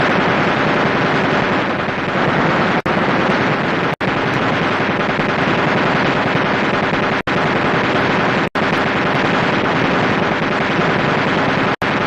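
Dense, loud machine gun fire in a classic aerial gunnery war film, a continuous roaring burst broken only by a few sharp cuts, with no voices over it.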